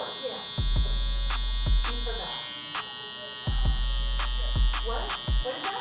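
Electric hair trimmer buzzing close up while giving a child a mid fade haircut, running in steady bursts that start and stop repeatedly, with a constant motor hum and some talk over it.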